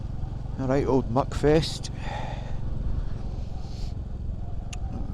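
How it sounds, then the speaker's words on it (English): A Royal Enfield Classic 350 motorcycle thumps steadily underneath while riding on a country road, a low continuous engine rumble that runs throughout, partly covered by someone talking at the start. "the Royal Enfield Classic 350 is sure-footed. Got to say, the engine is really loosened up now."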